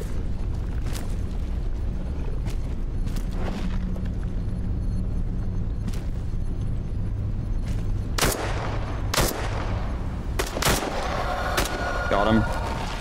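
Video game gunfire arriving as scattered sharp shots, some distant and some louder cracks toward the end, over a constant rumbling background, with no talk.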